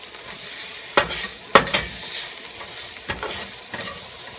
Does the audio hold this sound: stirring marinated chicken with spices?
yes